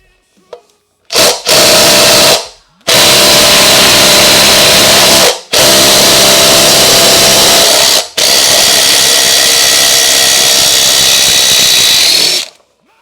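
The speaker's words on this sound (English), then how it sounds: "if I didn't have this impact drill" An impact drill hammers away at the wheel fasteners on a wrecked 2026 Kawasaki Ninja 500, close and loud, in three long rattling bursts with brief pauses between them and a short blip at the start.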